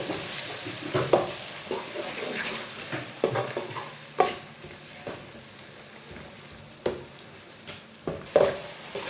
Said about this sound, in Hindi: मिर्च डाल लेंगे, 1 मिनट तक भून लेंगे।